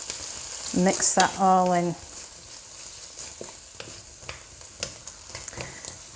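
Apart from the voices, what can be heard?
garlic and chilli frying in a pan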